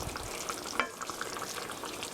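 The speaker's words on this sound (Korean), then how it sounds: "주걱을 땅을 긁듯이 이렇게 저어주세요" A spatula scrapes the bottom of a pan while mapo tofu is stirred, with a soft continuous sizzle and one brief scrape near the start, fairly quiet and close, with no voices.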